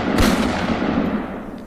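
A gunshot effect in a tiger-hunting tale, one loud close crack at the start that rolls into a long, dense, rumbling boom and fades slowly over under two seconds, with no voices.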